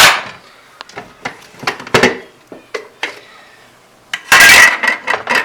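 A spoon stirs homemade ginger, carrot and sweet potato juice, giving a run of sharp clinks and taps against the container, irregular and close, with a louder burst of clattering near the end.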